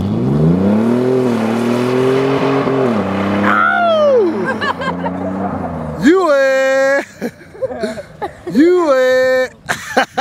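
A truck drives and revs on snow, its engine rising and falling loudly with surging revs, then fading into excited shouts and cheering from people nearby.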